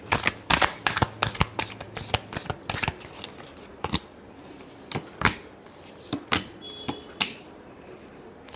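Tarot cards shuffled in a run of sharp riffles and flicks, dense at first and then spaced out, close and fairly loud, with no talking.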